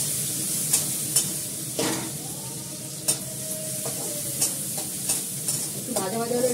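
Sliced onion, garlic and nigella seeds sizzle in hot oil in a pan, a continuous close frying hiss broken by repeated scraping strokes of a spatula stirring.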